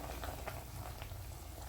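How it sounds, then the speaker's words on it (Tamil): Water at a steady rolling boil in a pot for Dindigul-style jackfruit biryani, a dense, continuous bubbling hiss with faint pops, close and even throughout, with no voices. "இப்போ தண்ணி நல்லா கொதிச்சிருச்சு."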